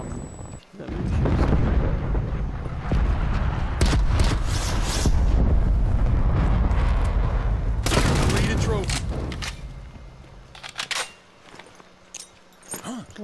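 A flashbang grenade bursts in Call of Duty Black Ops Cold War during a team deathmatch, a loud blast with a sustained ringing roar and scattered gunfire crackling afterward.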